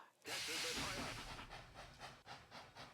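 A train in the Blitzkrieg 2 video game map editor starts moving with a burst of steam-like hissing, then a chuffing, pulsing rumble that continues steadily at moderate loudness.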